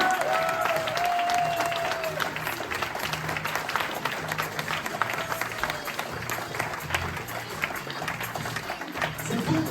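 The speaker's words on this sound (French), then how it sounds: "je vous demande d'applaudir s'il vous plaît très très fort ce garçon-là" A theatre audience at a Corsican stage show gives long, vigorous applause for the lighting technician, a dense continuous clapping with faint crowd voices and a brief high tone at the start.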